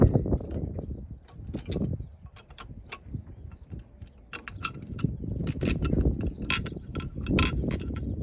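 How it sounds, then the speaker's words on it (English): Metal bolt being started and threaded by hand while fitting a marine sync stick, giving small clinks and ratcheting, mechanical ticks over a low rumbling background, close and fairly quiet. "I'll move on to the second tall bolt, get it started."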